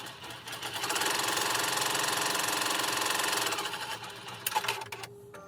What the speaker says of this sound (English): let's go ahead and do a placement stitch